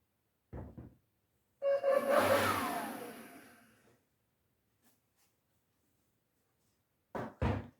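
A Ryobi OBL18JB cordless leaf blower kicks in for a burst of about two seconds, a whining rush of air that fades as the motor slows, with short thumps and handling noises before and after.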